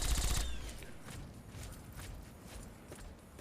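Gunfire in Fallout 3, a sharp loud burst at the start followed by a string of fainter, scattered shots trailing off at a distance.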